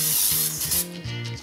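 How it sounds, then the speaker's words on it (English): A burst of nonstick cooking spray into a bowl, hissing steadily for about a second, close and fairly loud, then tapering off. "spray this bowl with some nonstick spray."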